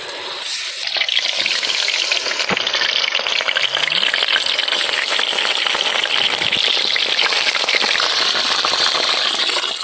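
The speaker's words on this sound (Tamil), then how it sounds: "அடுத்து காளான் எண்ணெய் சூடானதும் போட்டுக்கிறது தான்." Mushrooms dropped into hot oil for a crispy village-style fry, giving a loud, dense, continuous sizzle and bubbling that holds steady close up.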